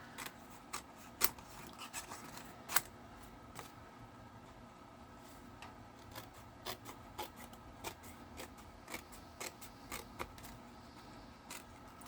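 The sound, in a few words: scissors cutting cardstock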